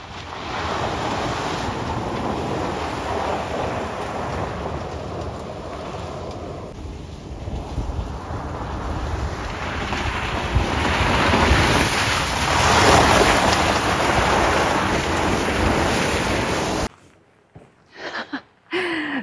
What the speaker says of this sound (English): I cannot with this rain.